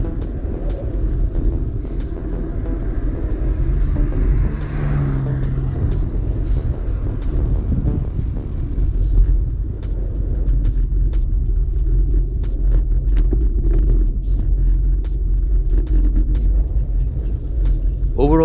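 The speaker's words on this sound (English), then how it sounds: "you can hear the winds. They were very, very strong." Strong winter wind buffeting a cyclist riding a Canyon bike through open fields, heard as a loud, steady low roar and rumble across the mic throughout, with a brief whooshing swell midway.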